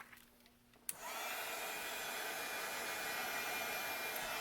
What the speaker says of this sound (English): So then you want to take your heat tool